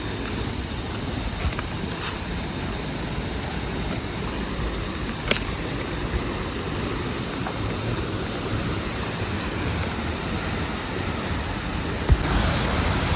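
Steady broadband rush of a waterfall on a river by the Sungai Chiling fish sanctuary, a constant close roar of falling water with no talk.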